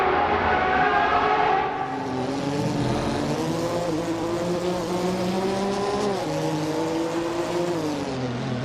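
Race cars in a racing video game roar through a corner together, engines droning loud and close with rising and falling revs over a steady bed of road noise, with no talking.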